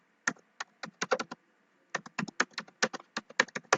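Close keystrokes clatter on a computer keyboard in two quick bursts of crisp clicks split by a brief pause, quiet and with nothing else audible.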